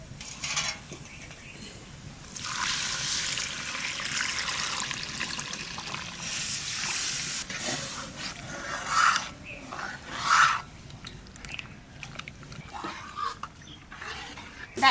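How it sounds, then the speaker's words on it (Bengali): Water is poured into lentils cooking in a pot for a sour dal with raw mango, a splashing, trickling pour lasting several seconds before quieter stirring sounds, with no talk. "জল দিয়ে দেবো"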